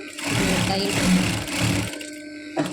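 Sewing machine stitching a pillow cover, a close, rapid mechanical whirring that runs steadily for about two seconds before slowing and stopping, with a faint click at the end.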